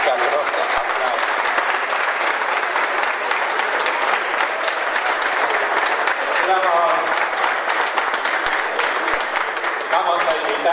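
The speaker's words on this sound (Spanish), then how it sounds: "un caluroso aplauso." A ceremony audience applauds warmly and steadily at a visit by the Loma Negra director to a CDC in Catamarca, where keys are handed over before a ribbon cutting; dense, even clapping fills the whole stretch.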